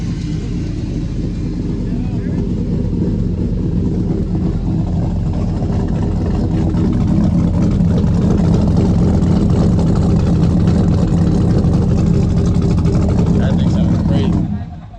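Chevy S10 pickup with a 5.3 V8 engine running steadily at a car show, a loud, continuous low rumble that holds for the whole stretch before dropping off at the end.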